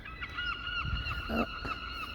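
Seagulls call near an old burial ground in Largs, giving a run of harsh, repeated honking cries, fairly close and loud against a faint outdoor background with no talk.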